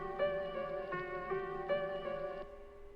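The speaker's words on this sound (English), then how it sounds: "It's just a dark piano loop, and it's from the Loaded Samples Lo-Fi Memphis kit" Dark lo-fi piano loop from the Loaded Samples Lo-Fi Memphis kit, slightly time-stretched, with quiet sustained notes struck in a slow repeating pattern that stops just before the end.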